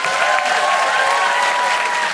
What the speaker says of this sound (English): Can I just say a huge, huge round of applause for Carole Cadwalladr